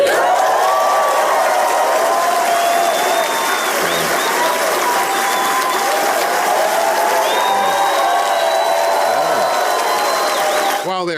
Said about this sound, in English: While they're clapping